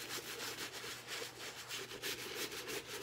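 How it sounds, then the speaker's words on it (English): A soft bristle brush scrubs a wet Vans shoe dipped in Reshoevn8r cleaning solution, giving quiet, rapid back-and-forth rubbing strokes that run steadily and close up throughout. "start with the soft bristle brush, as you can see"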